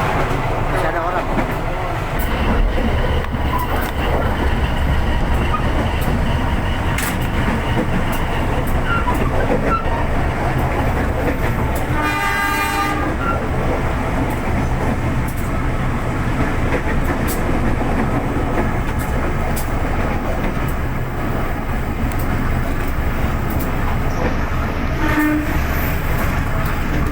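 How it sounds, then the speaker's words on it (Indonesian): A Serayu passenger train rumbles steadily along the rails entering Bandung station, Indonesia, with a continuous loud roar, a brief horn-like tone partway through, and faint voices in the background. "Memasuki stasiun kereta api Bandung"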